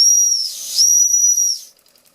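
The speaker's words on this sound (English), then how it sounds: "Bit of a whistle. Hurt my ears," A Doll 320/3 model steam engine sounds its whistle, a piercing high-pitched tone with hissing steam, blown twice in quick succession over about 1.5 seconds, loud and close, then cut off.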